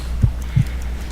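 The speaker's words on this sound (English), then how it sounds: "I need to concentrate and count the heartbeats." Heartbeat sound effect in a Sherlock Holmes detective video game, two low thumping beats about a third of a second apart over a steady low hum.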